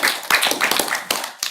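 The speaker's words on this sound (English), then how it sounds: "Want to clap a little bit? We can clap." School board meeting attendees clap together in a room, a burst of close, dense hand claps with brief pauses and renewed swells over a little more than a second and a half.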